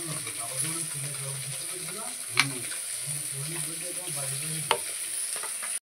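Hot oil sizzles and crackles steadily in a kadai while chicken pakora is fried, with a continuous hiss, scraping stirs and a couple of sharp clinks. A person speaks softly in places.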